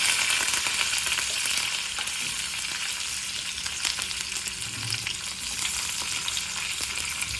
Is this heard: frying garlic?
yes